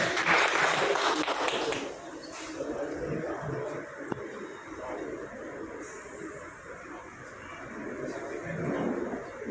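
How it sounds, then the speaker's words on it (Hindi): Audience applause at a journalists' honour ceremony, a dense wash of clapping that is loudest at the start, eases, then swells again, with background chatter and crowd noise throughout. "जोरदार तालियां एक बार"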